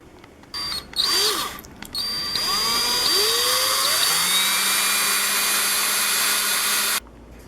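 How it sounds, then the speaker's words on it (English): Power drill with a 5/8 inch bit boring holes in wood for a wand holder, a high whining motor that ramps up in pitch, settles into a steady loud drone for several seconds, then cuts off. "I'm going to be using a 5/8 inch drill bit"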